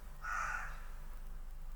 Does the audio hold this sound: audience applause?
no